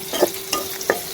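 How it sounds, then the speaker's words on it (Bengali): Chopped onion and garlic with a little salt frying in a pan, a soft continuous sizzle broken by several quick stirring scrapes and clicks of a utensil, close up with no voices. "পেঁয়াজ, সামান্য লবণ আর রসুন কুচি দিয়ে নিয়েছি, এখানে ভেজে শাকটা দিয়ে দেবো"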